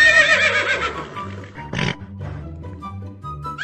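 A horse gives a loud, shrill whinny that falls in pitch, followed by a short burst of noise and lower snorting sounds, close and clear with little else around.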